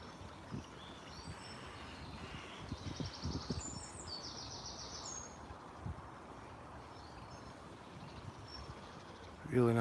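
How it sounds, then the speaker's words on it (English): Birds chirp and sing in scattered, brief bursts in a quiet morning woodland in Blackburn, fairly distant over soft rustling and footsteps, with a short loud thump at the end. "Listen to them birds."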